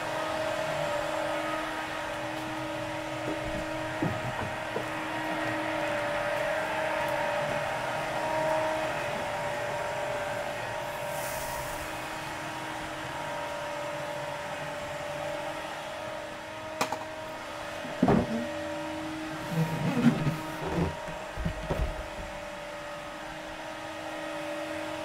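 A CNC machine cutting wood in a workshop, a steady whirring whine of the spindle and motor throughout, with occasional faint knocks and bumps near the end.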